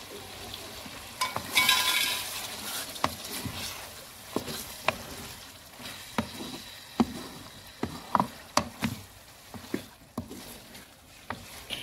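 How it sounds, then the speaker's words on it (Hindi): Spices and yogurt frying in a pot for chicken biryani, a low sizzle under repeated sharp knocks and scrapes of a stirring spoon at an irregular rhythm, close and without talk. "और सारे मसाले को अच्छी तरह भून लेंगे।"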